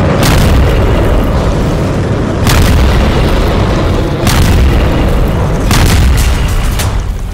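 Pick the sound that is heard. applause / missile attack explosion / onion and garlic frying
missile attack explosion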